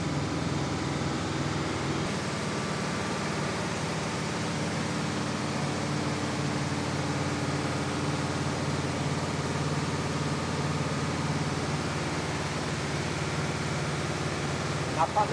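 A tractor engine, Escort 335 or Ursus C330, runs steadily at maximum revs while braked on a PTO-shaft dynamometer, producing a constant loud drone with a dense roar that does not let up.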